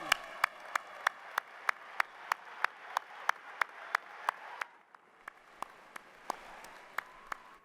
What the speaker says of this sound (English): Please stand and let's applaud Mr. Perry who's here.